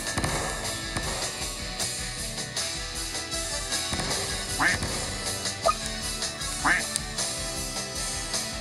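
Ducks in a Duck Hunt event video game let out a few short, nasal quacks against busy game sounds and popping effects, with a voice talking at times.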